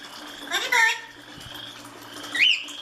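A pet parrot in its cage vocalizing, with short whistled chirps and a squawky rising call up close, mixed with faint background noise.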